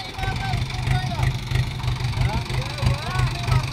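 A Sonalika 750 or Swaraj 744 XT tractor engine idles with a steady, close, pulsing low rumble, while voices talk and call out over it.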